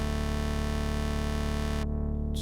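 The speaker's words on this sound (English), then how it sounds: "triple saw with an added fifth, which sounds like this." A Nord synthesizer plays a triple-saw bass patch with an added fifth as one loud, sustained, buzzing tone. The bright upper harmonics cut off abruptly near the end, leaving the low drone, and there is no talking.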